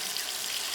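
Water runs from a tap in an animated cartoon: a brief, steady, hissing stream of flow at moderate loudness, with no break.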